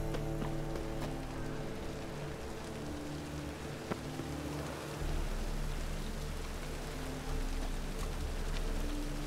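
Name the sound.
rain in the video game The Witcher 3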